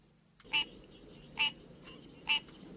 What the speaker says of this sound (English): Do you know what frog that is? The tree frog.